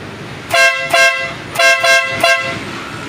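A Denali Soundbomb horn fitted to a Harley-Davidson Iron 883 motorcycle blasts five loud, close, brassy honks in two quick pairs and a single, each short and sharp.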